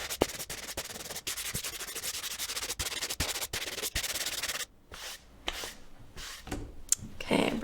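Electric sander smoothing a painted wooden Christmas sign, a loud close buzzing rasp with steady texture and small thumps, then lighter intermittent rubbing strokes toward the end.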